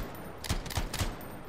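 Three single shots from a rifle in the video game Anthem, fired one at a time in an evenly spaced series, each a sharp, fairly loud crack with low thump, over a steady background.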